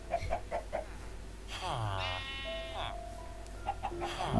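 A sheep bleats in the Minecraft video game, a single wavering bleat standing out clearly between soft background game sounds.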